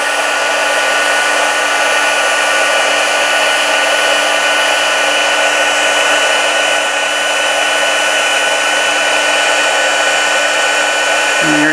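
A heat tool roars loudly and steadily while melting copper embossing powder on card pieces, one unbroken close blowing hiss with no speech over it.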